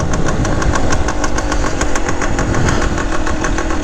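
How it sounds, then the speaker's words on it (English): A 1970 Yamaha RT1 360 two-stroke enduro motorcycle idles steadily nearby after a cold start, its loud, even, rapid engine beat continuing without pause and without talk. "Bike started second kick for me this morning, stone cold."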